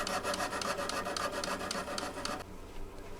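A triangle file bevelling the fret slot on a Teisco EP-11T guitar fingerboard, rapid close rasping strokes in a steady rhythm that stop abruptly near the end.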